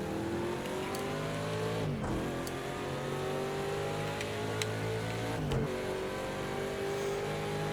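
A Mustang race car at Laguna Seca in an IMSA race, its engine pulling hard. The loud, steady engine tone climbs in pitch, drops sharply twice at gear changes, then climbs again, heard close from on board.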